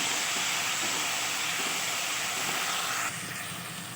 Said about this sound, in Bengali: মশলাটা আমি ঘিয়ের মধ্যে ভালো করে ফ্রাই করে নেব